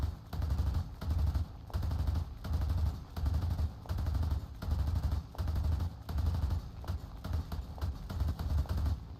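Short bursts of tapped gunfire in an online video game, repeating in a steady rhythm about every second with brief gaps, loud and close, no speech over it.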